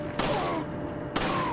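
Two sharp bursts of gunfire in a Resident Evil game, each a loud crack that rings out briefly, the volleys about a second apart, aimed at villagers.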